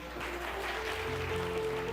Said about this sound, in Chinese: 我们拍手欢迎他